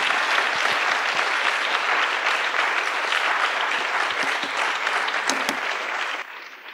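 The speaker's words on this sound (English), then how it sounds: "Once again, let's clap." A lecture audience applauds Professor Douzinas after his talk on philosophy and resistance, a dense, steady wash of many hands clapping that holds for several seconds and thins out at the very end.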